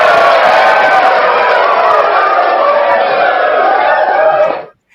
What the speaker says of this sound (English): I like the applause, but this clap I don't like.